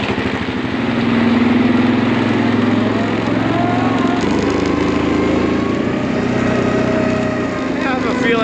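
Four-wheeler engine running up close on a horse farm, a steady rumbling drone that swells slightly as it revs, with voices talking over it.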